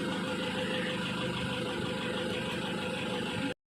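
A motorcycle engine idles steadily nearby, a constant low rumble that holds even and loud before cutting off abruptly at the end, with no talk over it.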